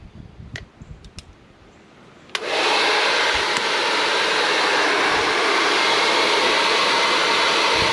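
A hair dryer switches on abruptly after a few faint clicks and runs with a loud, steady whooshing roar that continues without a break.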